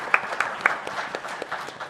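A panel audience clapping, a short burst of applause with crisp overlapping hand claps, fairly close and steady for a couple of seconds.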